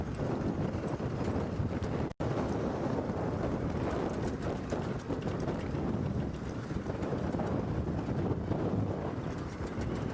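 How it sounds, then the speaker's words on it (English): Strong wind blowing across open savanna on a morning safari drive, buffeting the microphone in loud, continuous gusts, with a brief dropout about two seconds in. "This wind is much stronger."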